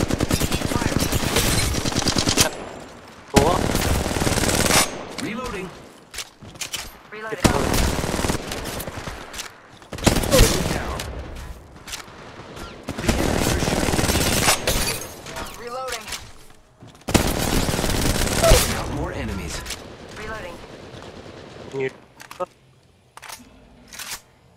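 Bursts of automatic gunfire from the mobile shooter Apex Legends Mobile, loud rapid volleys coming in several clusters separated by short gaps, with a player talking over parts of it.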